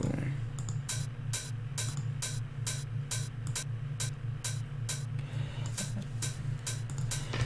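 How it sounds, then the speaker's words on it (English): A steady hi-hat pattern ticks in even, rapid strokes over a constant low hum, crisp and fairly close throughout. "So this is my hi-hat, and I'm gonna make this go."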